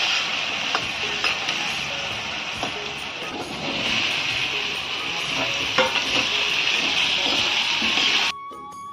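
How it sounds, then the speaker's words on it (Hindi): Potatoes and pointed gourd fry with spices in hot oil in a kadai, a continuous close sizzle broken by scraping stirs and clinks, ending abruptly. "मसाले और सब्जी को अच्छे से भून लेते हैं"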